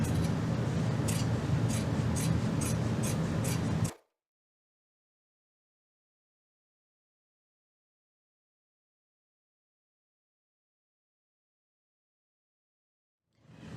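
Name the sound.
scissors trimming fabric seam allowance of a hobo bag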